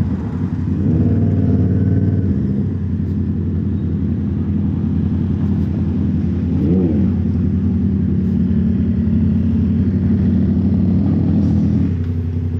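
A Yamaha MT-07 motorcycle with an open exhaust pipe idles and revs nearby, a loud, steady low rumble with a brief throttle blip partway through and no voices over it.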